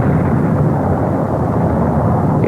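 Deep rumbling roar of a 1927 volcanic eruption explosion, a sustained loud low-frequency blast with no distinct onset, filling the recording evenly throughout.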